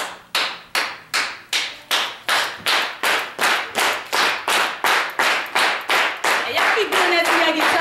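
An audience at a Black History Month poetry slam claps in unison, sharp even claps coming faster and faster until they merge into a continuous roar of applause at the end.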